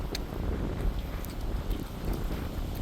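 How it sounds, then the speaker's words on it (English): Wind buffets the microphone in a steady low rumble throughout outside the abandoned Sunrise Mall in Massapequa, with a few faint clicks and knocks in the background. "Yeah, it's pretty windy."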